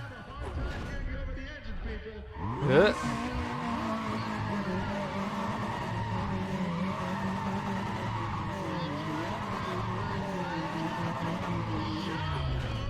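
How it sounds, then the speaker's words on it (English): In the Need for Speed: ProStreet racing game, a car does a burnout with a loud rising tire squeal and a steady revving engine that holds for several seconds, with a player talking over it. "Incredible burnout."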